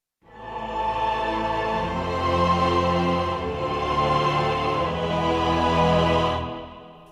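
Lush, cinematic chords built from a simple piano progression, swelling into a dense, sustained wash with a bright upper layer that holds steadily for several seconds before cutting off, no voices present.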